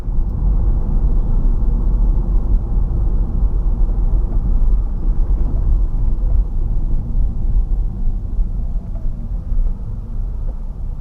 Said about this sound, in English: that grinding noise you hear when I slow down, that's the regenerative braking kicking in